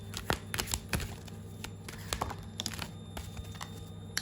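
Tarot cards are handled and drawn from a deck, giving soft, crisp flicks and shuffling rustles in quick irregular bursts, close and quiet.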